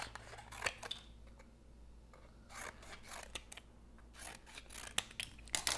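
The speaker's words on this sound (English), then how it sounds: "And then I cut strips." Scissors snip strips from a paper plate with quiet, close, irregular sharp cuts and soft rustling over a faint steady hum.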